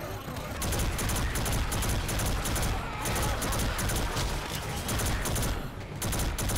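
Dense, sustained gunfire in a Crysis / Left 4 Dead 2 video game fills the whole stretch, loud and close, with rapid repeated shots blending into a continuous roar.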